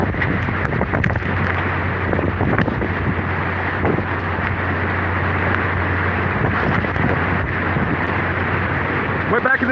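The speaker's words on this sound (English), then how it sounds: "Here comes the wind out again." Hurricane Ida wind roars steadily from the northeast, a loud, constant rush buffeting the microphone, with a voice now and then underneath.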